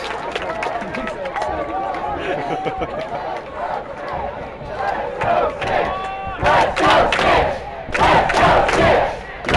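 Spectators at a quidditch World Cup final cheer and shout together in a loud, sustained crowd roar that surges in bursts near the end, with overlapping voices and commentary throughout.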